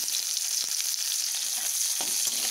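Onions frying in a pan, with a steady, dense sizzle that holds throughout at close range and a few soft stirring knocks, and no voices.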